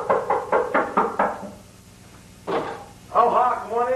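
Five quick knocks on a door land in a steady rhythm at close range, followed by a pause and then voices speaking in a comedy sketch setting.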